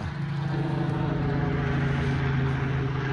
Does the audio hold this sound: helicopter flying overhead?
yes